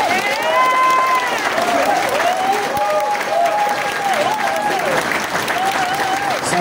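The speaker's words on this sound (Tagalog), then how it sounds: "Pwede bang lakasan yung palakpak ninyo sa" An audience applauds at an inauguration ceremony, a dense, steady wash of clapping from a large crowd that runs throughout while a voice carries on over it.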